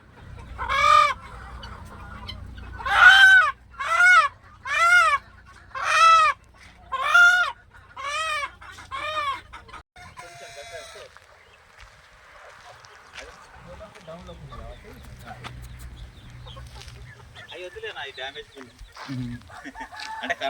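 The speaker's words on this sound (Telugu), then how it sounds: "ఇప్పుడు కోళ్ళు ఇవి తింటున్నాయి కదా" Native country chickens on a farm raising a run of about seven loud, rhythmic squawking clucks close by, then quieter scattered clucking and pecking while they feed on black soldier fly larvae.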